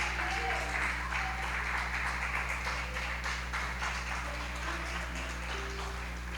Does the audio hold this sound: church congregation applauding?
yes